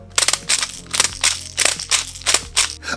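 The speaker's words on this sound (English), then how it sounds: "makes me wonder what full auto's gonna sound like" Rossi Neptune 5.5 PDW airsoft gun firing full auto, sharp snappy shots ripping out in quick uneven bursts of several rounds each, close and loud with no talking.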